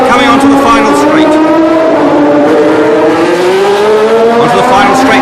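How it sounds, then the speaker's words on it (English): A 1970s Ferrari race car on the final straight at the Long Beach Grand Prix, its engine a loud, sustained high whine rising in pitch as it accelerates, with commentary spoken over it. "And there's the Ferrari coming onto the final straight."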